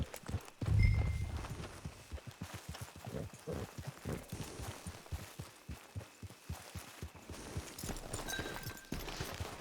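Horse hooves clip-clop at a steady walking pace in Red Dead Online, an even rhythmic series of close, soft thuds continuing throughout with a brief louder bump near the start.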